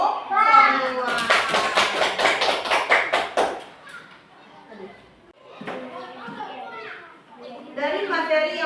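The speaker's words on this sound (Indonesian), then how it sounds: "beri tepuk tangan buat kita semua" Schoolchildren in an Indonesian classroom burst into loud, rapid applause for a few seconds, mixed with children's voices and chatter that carry on after the clapping fades.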